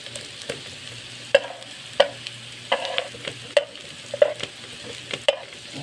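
Ginger sautés in a pan for sweet and sour fish, a quiet sizzle punctuated by sharp, regular clanks and scrapes of a spatula against the pan, close and without speech.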